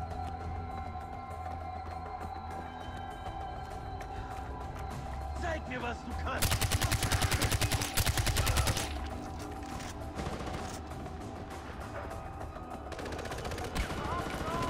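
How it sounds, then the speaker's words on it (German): Bursts of automatic gunfire in the video game Far Cry 4, a rapid machine-gun volley in the middle standing out loud over steady game background, with people talking around it. "Weiter schießen."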